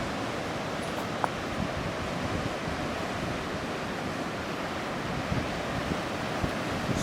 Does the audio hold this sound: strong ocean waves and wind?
yes